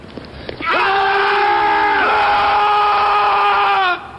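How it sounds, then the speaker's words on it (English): Several Marines shout a sustained Marine Corps battle cry together, a loud unbroken group yell holding steady for about three seconds before cutting off. "Sergeant, demonstrate a Marine Corps battle cry for this penny waste."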